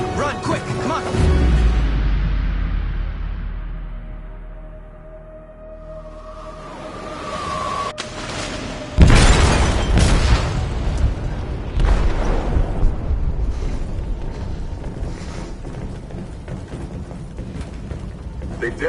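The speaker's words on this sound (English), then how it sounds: "They detonated an explosive in the hold. The ship is sinking, sir." A large explosion detonates in a ship's hold in the video game Detroit: Become Human, a loud deep boom with a long rumbling roar that swells into heavy debris noise and sustained low rumble, with a voice speaking.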